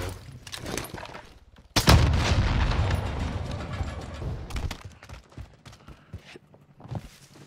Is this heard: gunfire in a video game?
yes